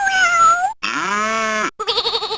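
A LeapFrog LeapStages toy piano from 2005 plays three clear, loud electronic cat meows in a row, each one drawn out and bright, separated by short silences.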